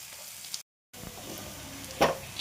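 Small onions frying in a pan for a boiled egg thurum pachadi: soft, steady sizzling heard close up, with a brief silent gap and a louder stirring crackle near the end.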